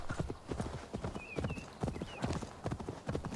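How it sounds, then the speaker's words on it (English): Horse mount in Assassin's Creed Valhalla galloping up, steady clip-clop hoofbeats throughout with a brief whinny, fairly close, with faint game ambience behind. "let me call my mount. Here you go, horsey."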